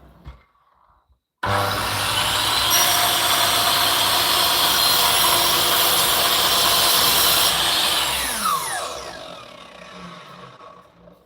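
A power saw cuts at an angle through reclaimed house timber for a cabin build, one loud sustained whine starting suddenly after a brief quiet moment, then spinning down gradually as the blade slows.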